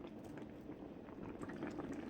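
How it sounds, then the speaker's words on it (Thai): Tonkotsu shabu hot pot full of noodles and tofu skin bubbling at a steady boil, a dense, even patter of small bursting bubbles heard up close and fairly soft, with no talking. "เสียงเดือดผุดๆจากหม้อชาบูฟังแล้วมีความสุขเนาะ"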